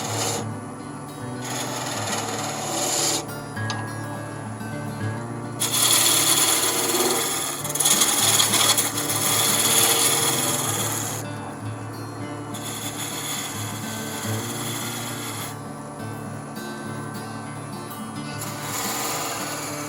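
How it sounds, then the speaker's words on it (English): Skew chisel cutting a wooden snowman hat rim on a spinning lathe: a steady raspy scraping hum with a constant motor drone, swelling louder in two longer bursts of cutting. "So I take the toe of this skew and I just line it out."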